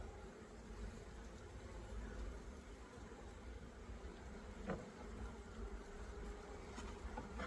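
Honeybees hum in a dense, steady drone around an opened hive frame during colony splitting, a continuous close buzz with no speech over it.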